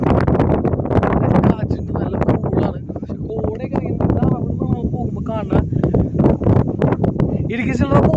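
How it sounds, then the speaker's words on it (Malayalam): Steady wind buffets the microphone on the Ilaveezhapoonchira hilltop viewpoint in Kottayam district, Kerala, a loud continuous rush with gusty swells, and voices faintly underneath. "കാറ്റുണ്ട്, നല്ല കൂളാണ്."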